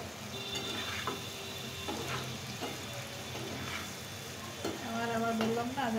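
Chopped cucumber frying in a pan with prawns, a steady sizzle carrying through with occasional scrapes and stirring clinks of a utensil against the pan, close and fairly loud throughout.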